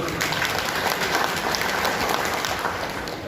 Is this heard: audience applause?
yes